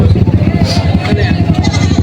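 Tagalog goats bleat repeatedly at a crowded livestock market, loud and close, with people talking in the background.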